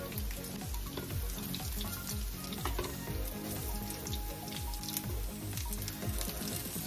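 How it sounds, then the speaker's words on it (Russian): Potato and tuna patties fry in a pan with a steady, loud crackling sizzle throughout, a dense spattering texture with no voices over it. "Обжариваем с двух сторон до румяного цвета"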